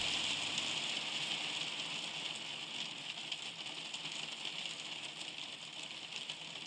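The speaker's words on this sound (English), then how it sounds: "Yeah, rain. I love that sound." Steady rain from an album track, a constant even hiss of drops falling on a surface, fairly quiet and continuous throughout with no voices.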